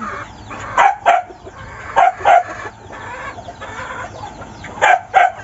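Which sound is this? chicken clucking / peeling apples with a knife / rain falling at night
chicken clucking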